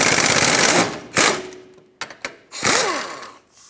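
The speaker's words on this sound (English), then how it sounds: "Now let's take this front lower arm bolt off," A power tool with a 15mm socket spins off the front lower control arm bolt on a 2012-2020 Ford Focus. It comes in several loud whirring bursts with sharp clicks between them, and the pitch falls as it winds down.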